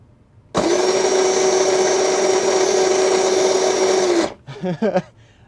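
A Power Wheels Jeep motor powered by a 20-volt battery spins up suddenly and runs as a loud, steady high-pitched whine for nearly four seconds, then cuts off, followed by a few brief clicks and rattles.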